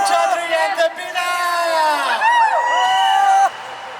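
A fan-meet crowd cheers, whoops and screams loudly for television couple Gurmeet Chaudhary and Debina, a dense sustained roar with shrill high-pitched shouts that cuts off abruptly after about three and a half seconds.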